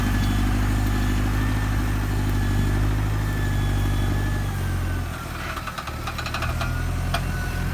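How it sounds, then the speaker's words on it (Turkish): Low, steady rumble of an MF 5445 Dyna-4 tractor engine running close by while chisel-plowing a beet field, a constant heavy drone with some rattling clatter toward the end. "Traktörümüz şu an 2C gidiyor."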